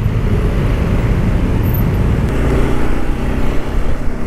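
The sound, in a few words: rush-hour traffic jam on Sudirman, Jakarta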